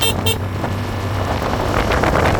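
A Neco Alexone sport scooter sounds two quick, high, thin beeps from its horn right at the start, close to the microphone, followed by a steady low motor hum.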